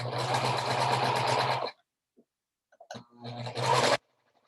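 A sewing machine stitches a straight hem on a fabric face mask in two bursts, a steady whirring hum that stops, pauses with faint handling clicks, then runs again briefly.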